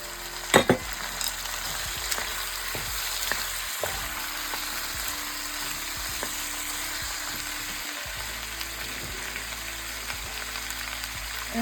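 Roughly chopped tomatoes frying in a pan for paneer lababdar give off a continuous close sizzle, broken by occasional small clicks and scrapes of stirring.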